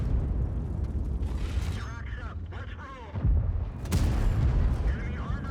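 Heavy booms and mechanical clanks from a tank battle game, with a deep blast rising near the end over a rumbling engine background while someone talks.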